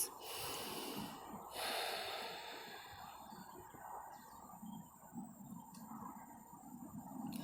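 Deep nasal breathing during an intermediate core yoga pose: slow, audible inhales and exhales, one stronger sniff-like breath near the start, close and soft, with no talking.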